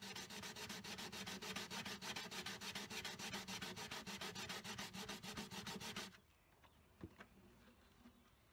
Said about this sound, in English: Sanding it with the belt sander,